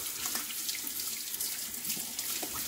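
Water runs from a bathroom tap while face gel is washed off, a close, steady splashing stream that continues throughout with no speech.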